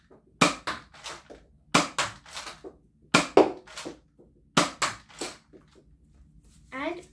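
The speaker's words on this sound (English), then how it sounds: "I've got my target ready, so I can start shooting and having fun" Nerf blaster firing foam darts at a target: four evenly spaced clusters of sharp snapping bursts, each a quick pair of mechanical clacks and thumps, close and fairly loud with quiet gaps between.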